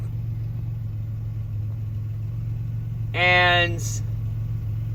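A Monte Carlo engine with an idle problem idles with a steady low rumble throughout, and someone speaks briefly over it near the end.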